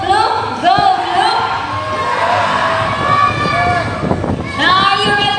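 An audience at a bird show at Cebu Ocean Park cheers loudly for a bird named Blue, with children shouting and chanting together in rising bursts, close and energetic throughout.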